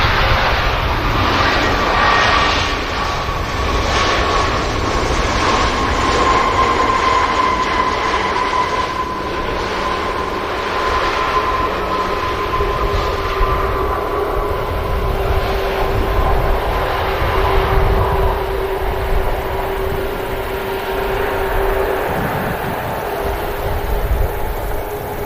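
TUI airliner touching down on the runway at Manchester Airport, a steady loud roar of jet engines with a sustained whine, continuous and fairly close throughout, without speech.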